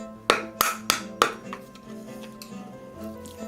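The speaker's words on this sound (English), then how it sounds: "We need to take this nut out because that's going to get in the way. So just using a little flat head screwdriver here." Four sharp clicking taps of a small flat head screwdriver prying the nut off a guitar neck, evenly spaced at first, followed by fainter scraping and light knocks.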